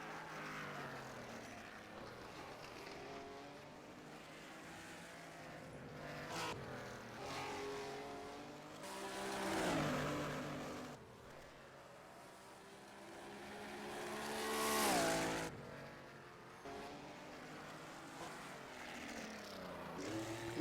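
Race cars lapping Mount Panorama in a racing video game, engines droning and shifting pitch as they pass, with two louder swells of cars sweeping close by and revving through corners, faint throughout.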